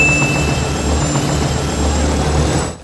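A military helicopter from the film Independence Day roars with a loud, steady rotor and engine drone close by, continuous and unbroken, fading slightly at the very end.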